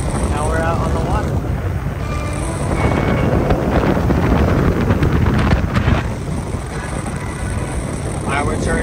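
A boat motor drones steadily over rushing water and wind buffeting the microphone as the boat heads into a channel, with a voice speaking faintly beneath.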